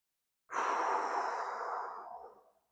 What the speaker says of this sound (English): let's take some deep breaths in.